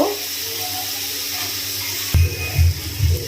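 Water is poured into a pan of spiced potatoes while cooking, a continuous rushing stream that gives way to heavier bubbling and sloshing pulses in the last second.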